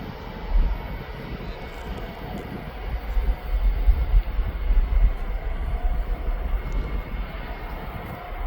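An airliner coming in to land at Birmingham Airport, a low rumbling engine drone that rises and falls, heard from a moderate distance with some louder gusts in the middle.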